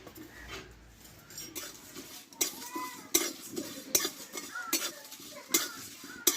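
Whole spices dry-roasted in a pan for a Bengali-style sweet and sour carrot pickle, heard as a series of sharp, close scraping and clinking stirs against the metal roughly every second, faint between strokes, without speech.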